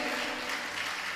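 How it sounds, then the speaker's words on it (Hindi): Short stretch of steady crowd applause from a congregation at a Jain religious discourse, a continuous wash of many hands clapping without any clear voices above it. "तालियां बजाइए।"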